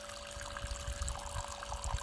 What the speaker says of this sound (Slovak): krásne si aj dieťa napúšťa takto vodu, či do pohára